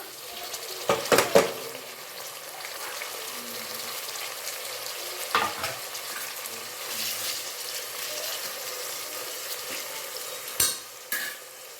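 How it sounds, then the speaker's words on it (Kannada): Chopped green tomatoes going into a hot pan and being stirred: a soft steady sizzle with a few scraping knocks of the spoon against the pan, close and moderately loud, no voices. "ಹಾಗೆ ಮೂರು ಟೊಮೆಟೊನ ಕಟ್ ಮಾಡಿ ಎತ್ತಿಟ್ಕೊಂಡಿದ್ದೀನಿ ಹಾಕೊಂಬಿಡೋಣ"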